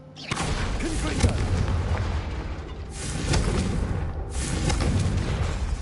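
Repeated booming fiery blasts from the Confringo spell in the Hogwarts Legacy video game, loud and dense with rumbling low end, bursting in several waves one after another amid battle noise and faint voices.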